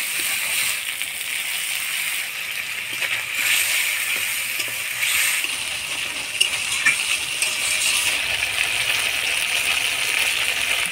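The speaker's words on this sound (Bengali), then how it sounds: "এবার মশলার বাটি ধোয়া জলটা দিয়ে মশলাটা ভালো করে কষাই নেব।" Water rinsed from a spice bowl is poured into spices frying in oil for a jackfruit curry, giving a steady, close, bright hiss and sizzle that continues for several seconds with small crackles and no talk.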